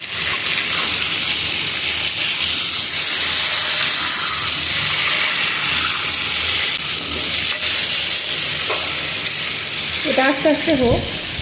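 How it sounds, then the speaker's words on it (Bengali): Potatoes fry in hot oil with a loud, continuous sizzle and hiss, close and steady throughout, with a brief stir or utensil scrape near the end. "লাল লাল করে এখানে আমি ভেজে নিচ্ছি আলুটা"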